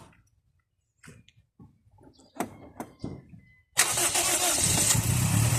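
A car engine starts after an engine cleaning and oil change: a few quiet clicks and knocks, then a sudden cranking catch into a loud, steady running rumble, close by with no talk.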